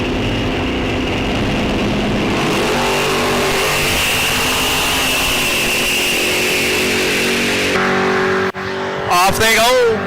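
Drag race cars launch off the line at an ET series event on Sunoco race fuel, producing a loud sustained engine roar that builds and fades over about eight seconds. An announcer speaks over it.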